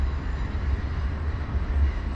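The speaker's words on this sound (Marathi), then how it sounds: "ही आपली समोर मेट्रो चाललेली आहे" A Pune metro train runs past near the Sangam of the Mula and Mutha rivers, giving a steady low rumble heard from a distance.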